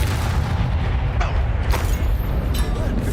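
A Bombarda blasting spell goes off in Hogwarts Legacy, a deep, heavy boom rumbling through a dense low-end wash of combat noise, with a couple of sharp cracks riding on top.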